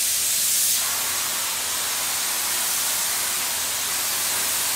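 An activator spray gun with a 1.4 tip atomizes in a continuous broad airy hiss that starts slightly stronger and then holds steady for nearly five seconds, loud and close, with no voices.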